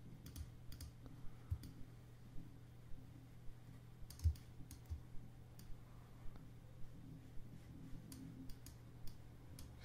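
A computer mouse gives faint, sparse clicks while Shift is held during Photoshop editing. The single clicks are scattered and quiet against a low background hum.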